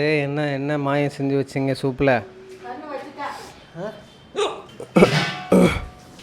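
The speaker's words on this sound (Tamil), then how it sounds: "இந்த விக்கல் நிற்காம வருது." Repeated sharp hiccups break through a person's chatter during village cooking of a chicken curry, the quick bursts landing between and over the talking.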